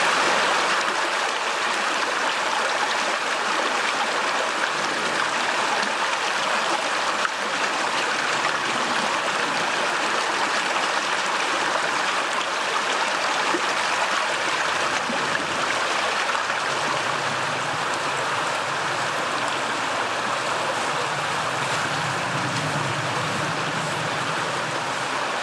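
Steady rushing flow of a river running straight out of a moorland reservoir beneath a footbridge, a continuous broadband wash of moving water heard close and loud throughout, with no speech.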